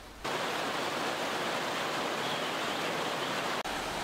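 A river flows past the Bedengan campground in Malang, a dense, steady rushing wash that sounds close and constant, with a brief dropout near the end.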